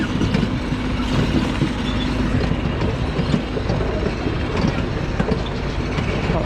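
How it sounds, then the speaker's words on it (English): A snake train ride at Diggerland in Devon runs over rough terrain, giving a loud, continuous rumble with rattling clatter and jolts throughout, close and unbroken. "It's a proper snake train as well because it's on rougher terrain."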